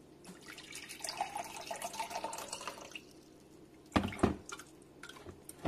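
Water from a Lagostina stainless steel kettle spout, heard as a soft trickling pour followed by a few louder splashes and drips near the end, close and fairly quiet.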